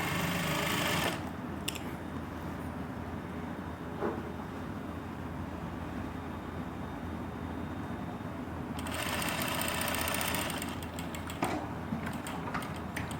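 A sewing machine stitches along a garment neckline in one long, steady mechanical run, with a short stop near the start and a slight shift in pitch partway through, close and alone.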